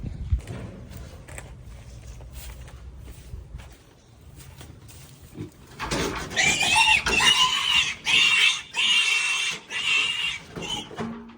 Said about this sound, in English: Got to catch the pig itself.